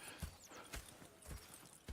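Horse hooves clip-clop in the Red Dead Redemption video game, a few quiet, spaced thuds under a faint background ambience with no one speaking.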